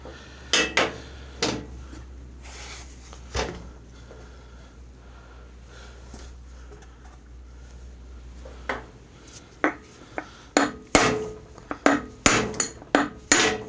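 Worn, greasy front wheel bushings being hammered out of a John Deere E130 lawn tractor: sharp metallic hammer strikes, a few scattered early on, then a fast burst of close, loud blows, with no talking.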